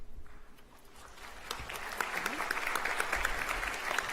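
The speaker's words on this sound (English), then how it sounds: "maybe a bigger round of applause now" Applause at a university convocation in Fredericton, New Brunswick: a large hall audience claps steadily, swelling from scattered claps into a full, sustained round that continues to the end, with a faint voice at the start.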